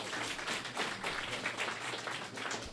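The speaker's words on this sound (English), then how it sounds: "he deserves a round of applause" Steady applause from a crowd at a reception honouring Ambroise Fayol, a dense patter of clapping hands holding at an even, moderate level throughout.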